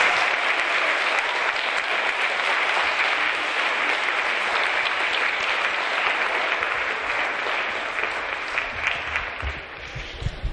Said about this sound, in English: a big round of applause to all of you students here at Slackwood